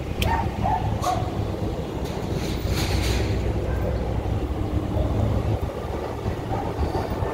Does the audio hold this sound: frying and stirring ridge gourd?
no